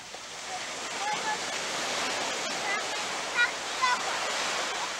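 Ocean waves break and wash up a beach in a steady, loud broadband roar, with a few brief bird-like chirps and faint voices in the background.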